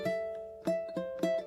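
Fingerstyle low-G ukulele playing, with three sharp strums, some harsh and some soft, striking over ringing notes, close and clear, with no talking.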